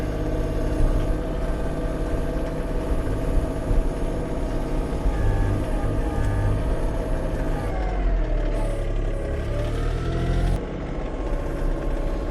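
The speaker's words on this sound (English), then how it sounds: "the engine's got some temp in it now, and we are plowing" A Kioti CK2620 compact tractor runs steadily while plowing snow with a new attachment, its engine and hydraulics giving a continuous loud drone with a shifting tone partway through and no talk.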